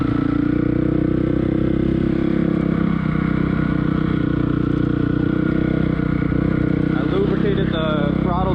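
A 2006 Honda CRF450R dirt bike engine runs at a steady, loud drone close by, with a shift in pitch near the end as it changes gear, and a voice speaks over it.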